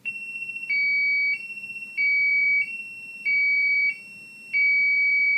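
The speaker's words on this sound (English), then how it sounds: "We have just received a home test alarm." A medical alert system's home test alarm, a loud electronic tone alternating steadily between two pitches in a repeating two-tone pattern, clear and close, with no voices.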